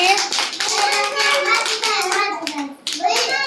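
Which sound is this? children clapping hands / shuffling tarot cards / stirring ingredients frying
children clapping hands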